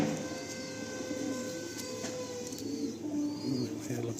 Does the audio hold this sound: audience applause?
no